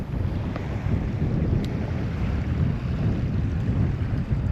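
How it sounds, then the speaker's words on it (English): Strong wind buffets the microphone while fishing from a boat, a steady, loud low rumble of gusting air with a faint wash of water beneath, no voices. "wind is blowing"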